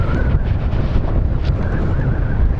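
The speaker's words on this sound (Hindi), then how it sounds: "बहुत ठंड है, बहुत ठंडी हवा चल रही है।" Cold wind buffets the microphone in a steady, loud roar on a mountain road near Badrinath, with no voices over it.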